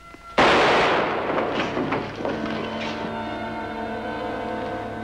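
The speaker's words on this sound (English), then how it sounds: "I'm going to shoot you, too." A sharp, loud gunshot crack on a Western TV drama soundtrack, bursting in abruptly and then trailing off into a long ringing decay with sustained tones beneath.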